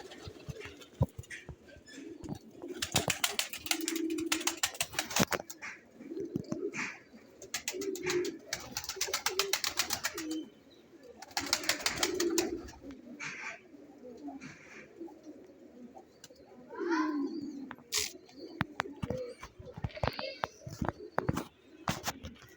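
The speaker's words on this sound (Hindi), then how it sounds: "ये भी बड़ी कबूतरी है हमारे पास" A female Teddy Dubwali breeding pigeon coos in soft, low, rolling bursts that recur every few seconds in a loft. Rustling and other bird sounds run alongside, and someone talks intermittently over them.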